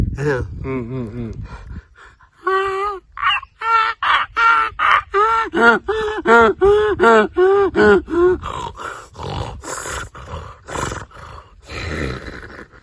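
A voice imitates a sparrow's call in a rapid run of short, repeated chirping bursts, loud and close, with a brief pause between two quick sets of calls.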